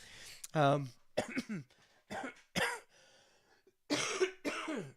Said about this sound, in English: that's me coughing for real